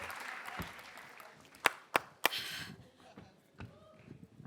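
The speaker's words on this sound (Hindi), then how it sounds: "मैं ताली का नेटवर्क चेक कर रहा था कि आ रही आवाज कि नहीं आ रही" During a TV comedy sketch, hands clap three times in quick succession, crisp and close, with faint background murmur and movement around them.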